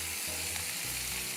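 Dried fish thokku sautéing in a pan gives off a brief, steady, close sizzle and crackle, with no talking.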